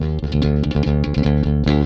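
A bass guitar plays a defined rock-style tone through a Jazzplate filter preamp (Wal/Alembic style) with the neck filter fully raised, giving steady, punchy, closely recorded notes with no talking.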